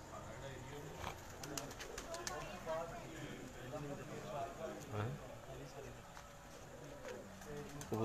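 Pigeons coo softly on a rooftop in Sheikhupura, low murmuring calls repeating faintly beneath distant voices and general ambient noise.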